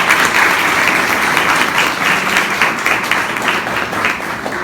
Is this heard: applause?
yes